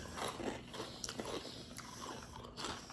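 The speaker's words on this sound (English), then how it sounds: "Why is there a crunch on yours? Because I have a cookie." Crunchy sourdough s'mores cookie being bitten and chewed up close, with repeated crisp crunches and scraping chews in an irregular rhythm, no talking.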